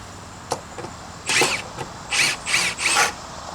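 A power drill backs out rusty deck screws during deck board work, giving a few short whirring bursts, close and fairly loud, separated by brief pauses.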